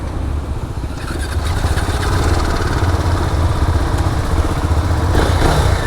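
A Husqvarna Svartpilen 701 motorcycle fitted with an Akrapovic exhaust runs close by, a loud, raspy engine note that steps up after the first second and holds a steady, throbbing idle.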